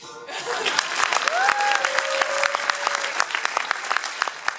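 Dense audience clapping at a theatre-style show in Poprad, crisp individual claps standing out in a steady wash, with a brief sliding whistle partway through.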